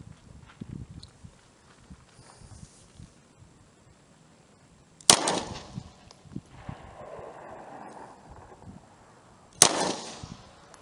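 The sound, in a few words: SCCY CPX-2 pistol firing rounds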